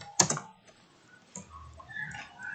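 Keys tapped on a computer keyboard while coding in Visual Studio Code, a sharp click followed by a few quieter scattered taps, close and faint, in a quiet room.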